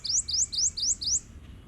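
A prothonotary warbler sings a loud, clear series of five identical rising sweet notes in steady rhythm, close and alone against a quiet background.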